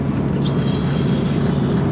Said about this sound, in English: Cheeky little turbo noises.